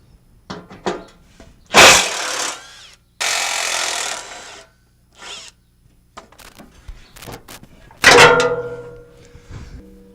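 Bolts come off the aluminum IFS skid plate of a 2005-2017 Toyota Tacoma fitted with a US off-road winch bumper, a 12 mm socket on a power tool giving sharp bursts of whirring and rattling between short quiet gaps and clanks.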